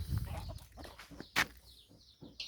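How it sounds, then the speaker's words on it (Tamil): Black karunkozhi chicks and a hen on a farm give faint, scattered clucks and short chirps, with one sharper peep standing out among quiet rustling. "இந்த கோழி கூடவே ஃபுல்லாக வந்து கருங்கோழி குஞ்சு தான் விட்டுருக்கிறேன்"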